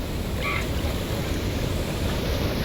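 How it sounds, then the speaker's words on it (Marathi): Water rushing under full pressure at the Tata Power dam: a steady, loud, broadband roar that continues without a break, with no voices. "पण फुल प्रेशरने पाणी आहे."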